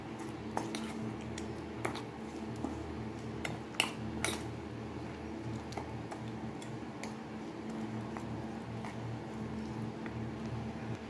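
A semolina and sesame mixture with water being stirred in a bowl: faint, steady scraping with scattered small clinks of a spoon against the bowl, quiet and close, with no voices.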